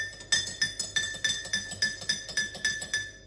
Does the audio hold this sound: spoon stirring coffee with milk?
yes